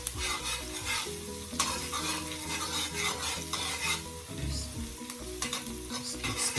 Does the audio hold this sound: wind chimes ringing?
no